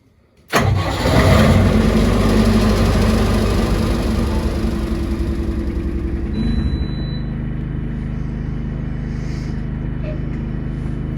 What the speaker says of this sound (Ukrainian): Зникло енергопостачання, вімкнути генератор.